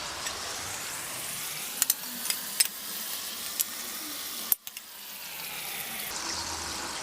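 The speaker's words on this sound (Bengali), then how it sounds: "এখন আমি ভাজা মাছগুলো দিয়ে দিচ্ছি।" Fried fish pieces go into a simmering spice paste with a little water in a pan, giving a steady close bubbling sizzle broken by a few sharp clinks and one brief dip.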